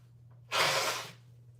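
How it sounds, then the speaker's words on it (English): A single short nose blow, a soft puff of air lasting about half a second over a low background hum, close and fairly quiet. "I gotta blow my nose again,"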